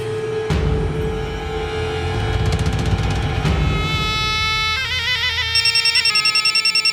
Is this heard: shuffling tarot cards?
no